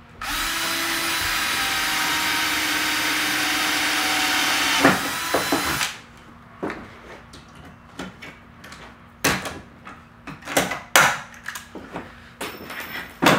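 A power tool whirs steadily for about five seconds while Sleekline trim is riveted onto a Club Car golf cart, then stops. Scattered sharp clicks and clunks of handling follow in a quiet room.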